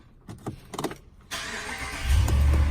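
A 2017 Ram 1500 pickup with the 5.7 Hemi V8 cranks with a few short starter whirs, then catches and roars to life before settling into a loud, deep, steady idle close by, with no voices.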